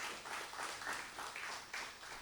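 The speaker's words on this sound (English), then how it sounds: "I think he deserves a round of applause." Applause from a lecture audience at a memorial lecture, steady moderate clapping heard at some distance in a large room, continuous through the short stretch.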